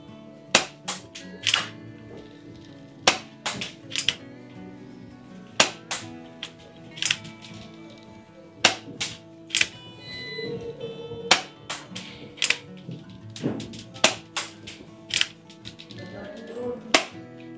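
A Tokyo Marui SAA .45 Cavalry Custom airsoft revolver fires on an outdoor range from about 5 to 10 metres, giving a long series of sharp, snappy cracks spaced irregularly about a second apart, each with a faint clack of the action, loud and close.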